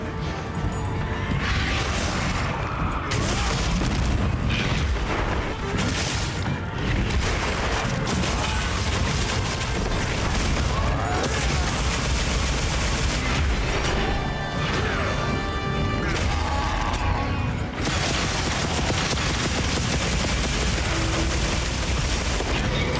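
Dense, continuous barrage of wide shelling weapon blasts in the Monster Hunter high rank endgame, loud crashing impacts piling on one another with no gaps.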